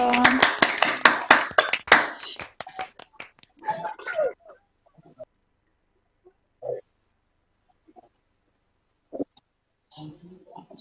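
Graduates at an online chemistry graduation unmute to clap and cheer: a burst of dense, overlapping clapping through unsteady call audio for the first two seconds, then scattered brief claps, whoops and voices through stretches of near silence.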